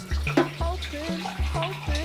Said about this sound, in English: 4 cups of boiling water